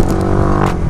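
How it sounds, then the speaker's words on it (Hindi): A Yamaha R15M motorcycle engine and exhaust after a service, a steady loud idle or rev filling the short moment up close with no speech. "सर्विस के बाद में इंजन का साउंड भी चेंज हो"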